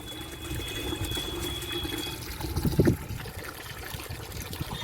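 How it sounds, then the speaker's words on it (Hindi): Water runs into a 20 litre bucket at a home kitchen garden: a quiet, steady trickle with a brief louder splash partway through and no voices. "तो हमारी बाल्टी भर चुकी है 20 लीटर की"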